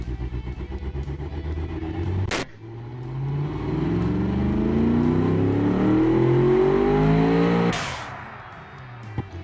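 A 531-horsepower 4.6-liter car engine revs hard, climbing from a rumble to a loud rising roar that holds and then cuts off abruptly, with sharp bursts at the start and end and no talk.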